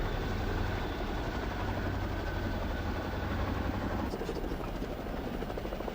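A Chinook helicopter flying, a loud continuous rotor thrum with heavy low-end drone, steady throughout and close, with the sound shifting slightly near the end.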